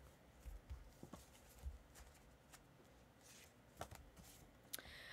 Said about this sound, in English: Shuffle those, split them in half.